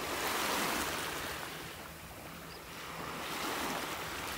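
Ocean waves breaking on a distant sandbar off a beach in North Naples, Florida, a soft continuous wash of surf that swells and eases, faint with some wind noise.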